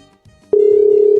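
Telephone call tone, a soft rustle followed by a loud, steady single-pitch tone that starts abruptly and holds to the end.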